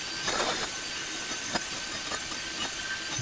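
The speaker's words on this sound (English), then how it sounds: "A little bit of sanding in the opening." Hand sanding on the entrance hole of an upcycled wooden wood duck nest box gives short, raspy scrubbing strokes, close and moderately loud, repeating in an uneven rhythm against a steady background hiss.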